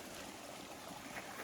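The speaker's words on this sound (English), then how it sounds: "But this is the trail coming over this creek." Creek water flows where a mountain hiking trail crosses near a shelter, a faint, steady rushing and trickling with no other sounds over it.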